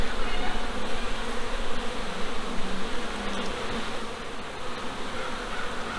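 Honeybees buzz continuously around an open hive on a farm during an inspection, a dense, steady, close swarm drone with individual insects passing near and away, no talking.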